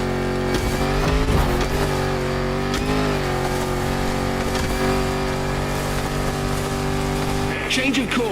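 Land Rover Defender with 400 horsepower revving in The Crew Motorfest racing game, a loud engine drone rising and falling through gear changes with brief tire noise, while a voice talks over it.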